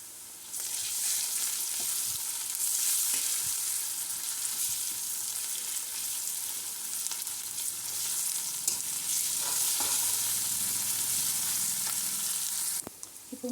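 Ginger garlic paste frying in a pan for an okra fry, a steady loud sizzle holding throughout, with faint stirring scrapes and a clatter at the end.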